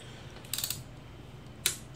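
A torque wrench ratchets on the rod bolts of a Honda Civic D16Y8 single-overhead-cam engine during a rebuild. Brief clusters of close, quiet mechanical clicks come in a few short bursts, with no talking.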